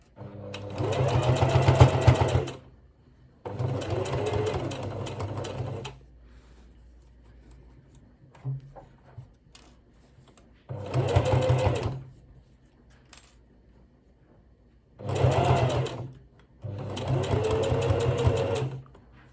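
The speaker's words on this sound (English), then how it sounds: "stitch that along that basting stitch line." A sewing machine stitches along the basting line of a polka dot dress's bias-bound collar in several steady whirring runs of a few seconds each, separated by quiet pauses with small handling noises.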